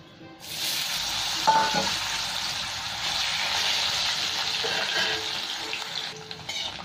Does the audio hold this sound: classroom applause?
no